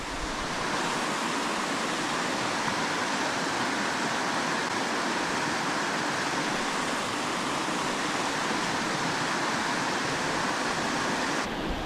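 Steady, dense rush of a deep creek flowing in the San Bernardino Mountains, loud and close, with no pauses or voices.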